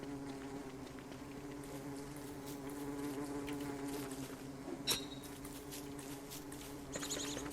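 Bees buzz around beehives in the Don't Starve video game, a steady droning hum of several insects close by, with a few soft taps and clicks from the game over the constant buzz.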